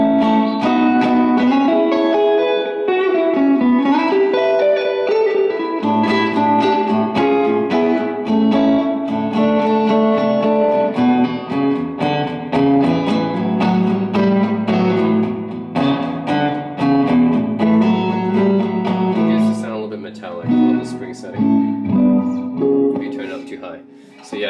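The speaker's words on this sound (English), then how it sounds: "So you can hear the springs kind of bouncing around." Electric guitar strums and picks chords in a steady stream, drenched in a heavy, splashy spring reverb turned up high, the springs ringing and wobbling after the notes.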